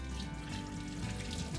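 Water running steadily from a tap into a sink while soaked beans are rinsed and drained, a continuous close splashing flow with no voices.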